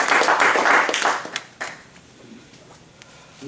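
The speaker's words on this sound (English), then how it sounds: "Let's give a nice round of applause" A short burst of audience clapping at an onstage speaker introduction fades quickly into scattered, thinning claps, fairly near and moderately loud, with no voices.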